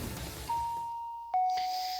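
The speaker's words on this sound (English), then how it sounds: "The doorbell rings, making me even more annoyed." A two-tone ding-dong doorbell chimes at moderate volume, the higher note followed by a lower one, each ringing on briefly.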